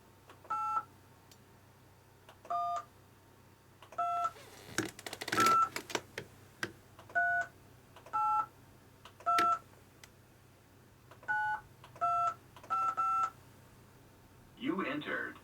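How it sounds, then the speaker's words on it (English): Telephone keypad DTMF tones entering a phone number into an automated line: about a dozen short dual-pitch beeps in uneven groups, clear and close, with a brief burst of voice or noise in the middle and near the end. "Using your telephone keypad, please enter your area code and phone number."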